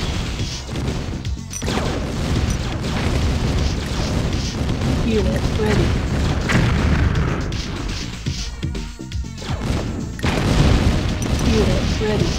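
Nuclear weapon detonating in the video game DTA, a sustained, loud rumbling roar with heavy crashing booms that swells and surges throughout, amid in-game unit voice announcements.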